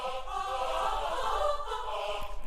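Sampled choir from the Kontakt Olympus library, a sustained classic choral pad of blended voices holding steady harmonic tones for a few seconds at moderate level, alone without talk.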